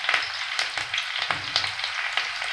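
Mustard seeds, cumin, garlic and curry leaves spit and crackle in hot oil, a steady loud sizzle with sharper pops and stirring scrapes throughout.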